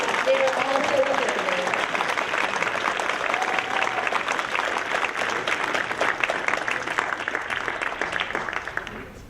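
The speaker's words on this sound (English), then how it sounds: "can you just give all of them a big round of applause?" Audience applause for the candidates at the 2015 Northern California Cherry Blossom Queen program, a sustained, dense round of clapping that fills the hall steadily for about nine seconds and fades slightly at the end.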